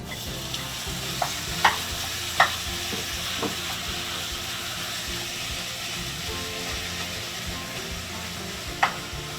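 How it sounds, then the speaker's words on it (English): Ground turkey cooks in about half a teaspoon of olive oil in a pan over low heat, a steady soft sizzle running throughout with a few sharp scraping clicks of stirring. "now we're going to start cooking the ground turkey"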